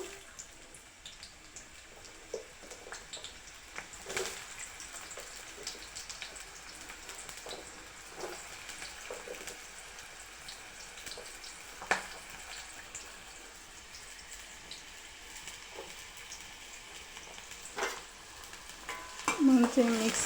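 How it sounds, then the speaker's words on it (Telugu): Onions fry in hot oil in a home kitchen, a faint, steady sizzle with occasional soft stirring clicks and a louder scrape near the end. "ఆనియన్స్ కొంచెం ఫ్రై కావాలి, golden light brown pink colour వస్తే చాలు."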